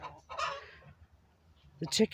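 A hen clucks and squawks nearby in two short bursts separated by a brief pause.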